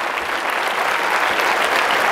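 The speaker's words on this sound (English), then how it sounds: "All of this applause is for these guys." An audience at a high school hypnosis show applauds the hypnotized student volunteers, a brief, dense burst of steady clapping with no break.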